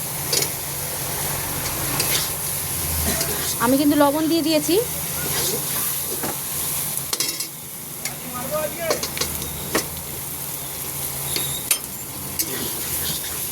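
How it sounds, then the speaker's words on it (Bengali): Spices fry in a pan with a steady close sizzle and crackle running under a woman's brief speech, with a few clinks and stirring knocks scattered through. "এটা একটু এরকম ভেজে নিতে হবে মশলার সঙ্গে, এটা কিন্তু এরকম ভাজা ভাজা হবে।"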